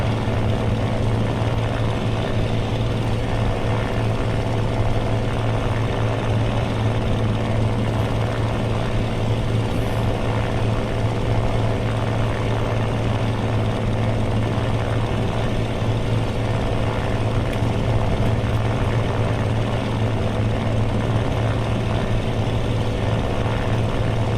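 Propeller aircraft engines in the combat flight game Aces of Thunder, with bombers in the sky; a loud, unbroken droning hum with a steady low tone persists for the full stretch, with no talk over it.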